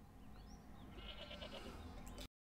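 Cartoon sheep bleat from a flock in a hoarding scene, several wavering bleats overlapping one another in the middle of the clip over a steady low background hum, fairly faint and cutting off abruptly.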